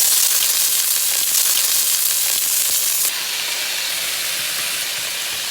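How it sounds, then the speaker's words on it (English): Onion frying in hot oil on a preheated stove with a stock cube, a loud, steady broadband sizzle that drops slightly in level partway through and carries on alone without talk. "I already preheat the stove and I added a little bit of oil. Put in the onion"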